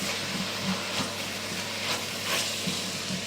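Mushrooms sauté in a pan with a steady, soft sizzle, the frying hiss close and continuous with faint stirring textures and no talking.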